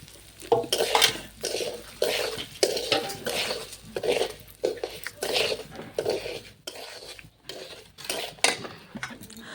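A spoon scrapes and stirs dal, rice and chopped ginger in a metal pot for a khichuri, giving a close, steady run of rhythmic clinks and scrapes with brief pauses between strokes.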